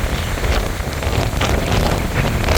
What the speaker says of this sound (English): The wind we got last night, it's coming through the valley now.